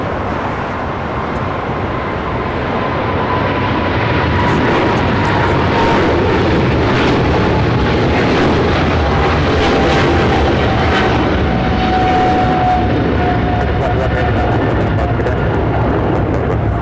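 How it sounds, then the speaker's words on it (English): A Turkish Airlines Boeing 777-300ER rolls for takeoff on runway 25 right at LAX, bound for Istanbul, its engines a loud, broad roar that builds and holds steadily with a thin whining tone gliding through it. "We have the Turkish now rolling on 25 right"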